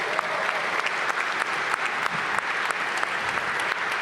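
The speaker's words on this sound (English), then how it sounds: "a round of applause for your Washington Wizards on a game day" A crowd applauds the Washington Wizards basketball team at a Monumental Sports & Entertainment and Washington D.C. announcement event, a thick, steady roar of clapping from many hands at a moderate distance.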